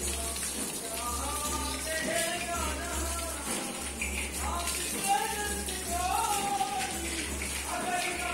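Water gushing and splashing from a desi hand pump in a Pakistani home on Eid, a continuous spattering stream with voices talking over it.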